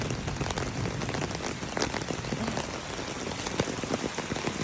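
Heavy rain pours steadily and densely outdoors during a downpour bringing flash flooding, a loud, continuous hiss with close drops spattering on surfaces throughout.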